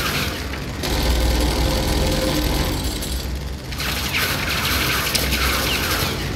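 Continuous gunfire and explosions in the Borderlands video game, a dense, loud barrage of booming shots with no pauses, no voices over it.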